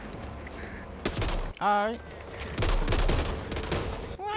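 Bursts of gunfire crackle through the zombie game Back 4 Blood in uneven clusters of close shots, while a player talks between the volleys.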